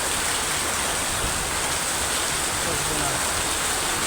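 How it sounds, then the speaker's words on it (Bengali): Heavy nighttime rain pours down at a CNG station in Mymensingh, Bangladesh, a dense, unbroken roar of water that stays loud and constant throughout. "এদিক দিয়ে দেখো কি পরিমাণ বৃষ্টি পড়তেছে"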